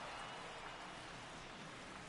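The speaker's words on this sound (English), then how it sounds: "just playing in the rain as rain and storms are going through the area." Steady rain pours down on a minor league baseball game between the San Antonio Missions and Midland Rockhounds as storms pass through, a continuous broadband hiss with no voices.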